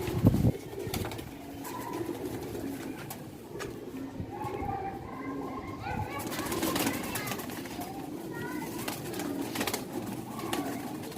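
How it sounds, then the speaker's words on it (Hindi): Old-breed Sialkoti pigeons coo repeatedly in soft, throaty calls close by, with occasional rustles and faint background noise. "सियालकोटी पुरानी ब्रीड, बहुत ही आला क्वालिटी के कबूतर ने"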